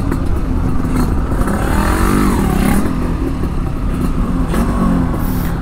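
An imported two-stroke 135 motorcycle engine revs loudly and steadily, a dense raspy roar with rising and falling pitch swells around the middle, close to the listener and with no talk over it.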